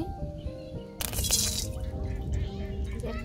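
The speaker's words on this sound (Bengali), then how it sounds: "গুড় জাল দেওয়ার জন্য কড়াই দিয়ে দিব সামান্য পরিমাণ পানি" A small splash of water poured into a wok to melt jaggery, a brief bright pour-and-splash burst early on that settles into a low bubbling simmer with faint background voices.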